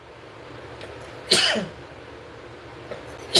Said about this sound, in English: hold up, I gotta sneeze.